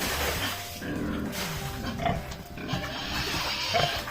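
A boar on a rural farm gives several rough, close grunts in irregular bursts over a muddy low background.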